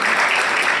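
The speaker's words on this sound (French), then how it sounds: "Je demande d'applaudir l'ensemble des panélistes." A brief burst of full audience applause for a panel of speakers at a conference session in the Palais du Luxembourg, dense and even throughout.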